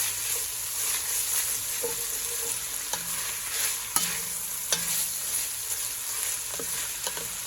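Beef being flipped and mixed in a hot pan with olive oil, a steady bright sizzle running throughout while a utensil scrapes and taps the pan a handful of times.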